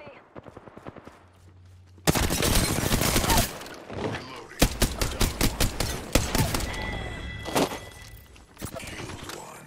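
Loud, close bursts of video-game gunfire fired at a player in a shooter match with Bloodhound and Revenant characters, rapid automatic volleys broken by short pauses, with a few sharp impacts.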